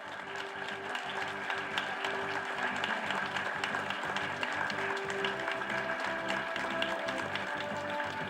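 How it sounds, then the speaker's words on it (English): Audience applause fills an award ceremony for best nurse and lifetime achievement honours: a steady, dense wash of many hands clapping that holds at an even, moderate level for the whole stretch. "Can we all have a round of big applause?"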